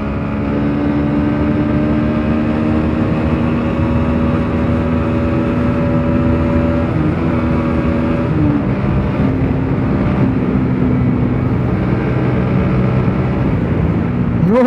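A motorbike engine on a night ride through heavy traffic makes a loud, continuous drone that holds steady throughout, with only slight shifts in pitch and no voices.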